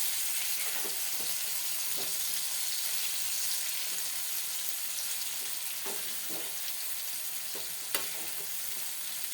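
Okra frying in oil in a pan, a steady close sizzle and crackle that stays level throughout, with occasional soft pops and stirring taps and no talk.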